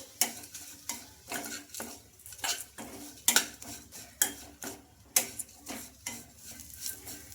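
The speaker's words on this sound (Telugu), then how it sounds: "ఈ అటుకులను కూడా ఒక నిమిషం పాటు బాగా ఫ్రై చేసుకోవాలి" Flattened rice (poha) is fried in a pan with a spoon scraping and clinking against the metal in a regular stirring rhythm, close and distinct over a low sizzle.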